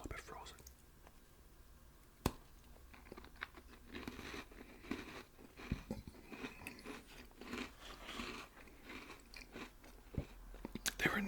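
Homemade peanut butter cookies, still partly frozen from the freezer, are bitten and chewed close to the microphone, giving crisp, irregular crunches in soft whispered ASMR style.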